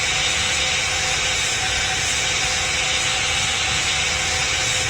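Boeing 777 jet engines at takeoff in the Roblox flight game PTFS, a loud, steady broadband roar and hiss holding constant throughout with no breaks.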